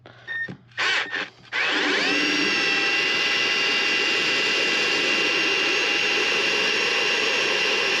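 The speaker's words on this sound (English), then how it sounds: "The drill pump was taking just a little bit longer than expected." A few short mechanical bursts, then a loud drill-driven pump starts and runs steadily at high pitch, close and continuous.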